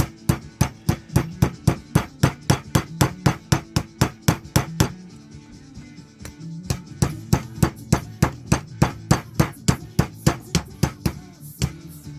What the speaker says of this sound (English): I use this hammer again with a flat part on for knocking these tabs down.